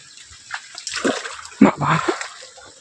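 Sloshing splashes of someone wading through knee-deep floodwater after heavy rain, with flooded betel-leaf plots nearby; irregular close splashes build toward the end, with faint speech-like sounds in the background.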